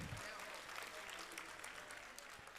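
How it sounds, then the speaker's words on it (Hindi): A crowd at the Akshat Mahotsav religious festival in Mathura claps, a faint, distant patter of applause with some voices mixed in. "एक बार ताली तो बजाओ"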